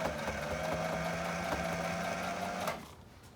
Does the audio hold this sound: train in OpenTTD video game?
no